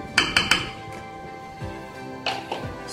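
Coconut milk rice mixed in a cooking pot, a utensil knocking and clinking against the pot in a few quick strikes, then softer scrapes, close by.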